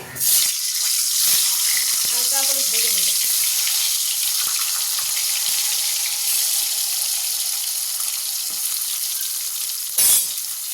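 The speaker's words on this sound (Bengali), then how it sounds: "ভালো করে নেড়ে নেড়ে দুটো সাইড ভালো করে ভেজে নেব" Pointed gourds (potol) frying in hot oil in a wok, a loud steady sizzle that runs the whole time, with a few clatters of stirring and a brief burst near the end.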